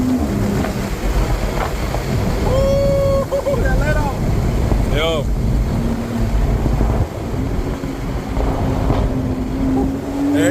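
Strong wind buffeting across the open cockpit of a BMW Z4 M40i roadster while driving, a steady loud rush throughout with engine tones and occasional whoops and talk.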